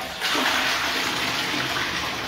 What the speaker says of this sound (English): There's the toilet flushes.